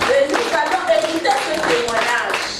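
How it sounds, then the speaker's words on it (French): Audience clapping at an international church conference of a ministry for women and men of faith, steady and fairly loud across the whole stretch, with voices and cheering mixed in over the hand claps. "Continue to clap for her."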